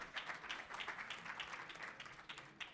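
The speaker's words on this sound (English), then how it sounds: "A round of applause for the holodeck." Continuous applause from a crowd, a dense patter of many hands clapping at an even level for the whole stretch, with no voices standing out.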